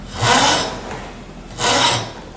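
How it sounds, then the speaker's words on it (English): Coarse hand file rasps across a metal workpiece to remove a burr in a shop project, two distinct loud strokes separated by a short pause, close and alone with no talking. "I'm going to take my coarse file."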